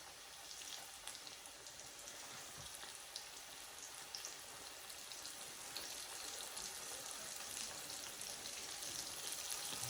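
Chicken strips frying in a skillet give a steady, dense hiss and crackle of hot oil that runs unbroken and fairly loud throughout, with no talking.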